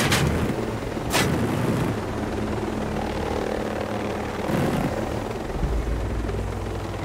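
A helicopter in the video game Ghost Recon Breakpoint flies with a steady, loud rotor drone. A few sharp bangs land near the start and in the middle.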